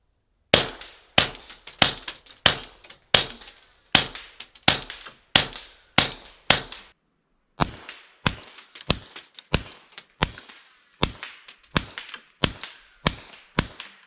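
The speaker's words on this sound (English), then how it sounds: "So here it will be 10 just fired into the valley from the Ruger Mark IV" Ten suppressed shots from a .22 Ruger Mark IV pistol fired outdoors into a valley, each a sharp crack with a short echoing tail, spaced evenly about half a second apart with one brief pause midway.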